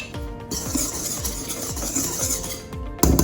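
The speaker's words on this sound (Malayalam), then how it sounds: "അതിനുശേഷം നന്നായിട്ട് ഇളക്കി കൊടുക്കുക." Spoon stirring dry ingredients for garlic bread dough in a bowl, a steady scraping swish repeating roughly every quarter second, close and continuous, ending with a sharper knock.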